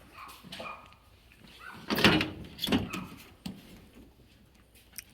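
A steel roll cage door bar on a twin-turbo S10 truck swings out after its pin is pulled, giving a couple of close metallic clanks and thuds over faint background shuffling.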